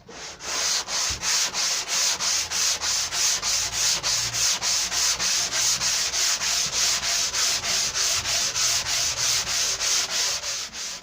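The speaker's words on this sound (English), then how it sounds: "I'll give that a good sand, and I'm just going to round over these edges just a little bit." Hand sanding the edges of an MDF shelf with 120 grit sandpaper, a loud close scratchy rasp in steady back-and-forth strokes, roughly three per second, with no voices.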